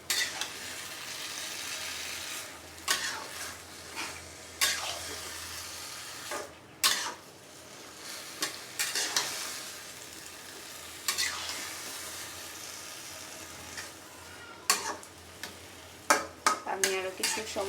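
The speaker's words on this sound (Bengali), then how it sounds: "এখন নাড়া দিয়ে দিচ্ছি" Malabar spinach stirred as it fries in garlic oil, a steady sizzle broken by repeated scraping and clacking strokes of a spatula in the pan.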